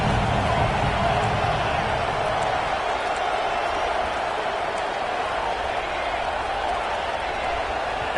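A stadium crowd roars steadily at a football game, a broad, loud wash of cheering that holds throughout without a clear break.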